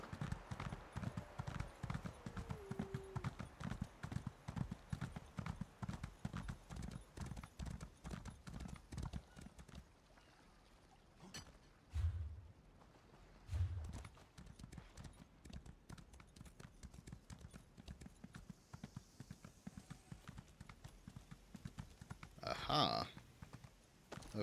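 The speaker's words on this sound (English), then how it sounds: "Let me get off my horse here." Horse hooves clip-clop in The Elder Scrolls Online, a fast steady rhythm of hoofbeats that continues for about ten seconds, then slows and stops, followed by a few scattered footsteps and brief rustling near the end.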